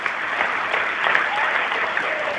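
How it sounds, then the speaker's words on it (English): Football fans at an FC Halifax Town versus Solihull Moors match applauding a substituted player, a steady wash of stadium clapping heard from a distance, sustained and even for a couple of seconds. "from a clap from the fans, and deserves the applause"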